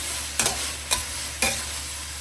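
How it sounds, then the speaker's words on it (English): Pork stir-fries in a hot wok, a low constant sizzle broken by three sharp tossing scrapes about half a second apart, close and clear with no voices. "Notice how the pork moves around the wok"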